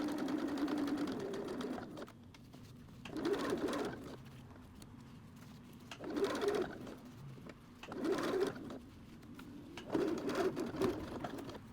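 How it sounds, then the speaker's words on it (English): A sewing machine stitches a hem across a thick seam, running in repeated short bursts about every two seconds with quieter pauses between, close and moderately loud. "you can see how I just went over the thick part of the seam and the machine barely even struggled"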